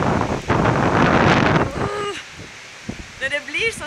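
Storm wind gusting outdoors, a heavy roaring rush for the first couple of seconds that then eases, with a few sharp tonal squeals or creaks and shifting noise afterward.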